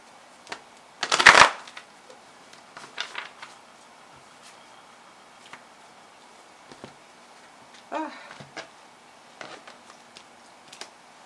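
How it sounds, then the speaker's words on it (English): One quick riffle of tarot cards flutters loudly near the start, followed by sparse soft taps, slides and shuffling handling sounds in a quiet room. "I just give them one more shuffle and cut them after I turn the camera on."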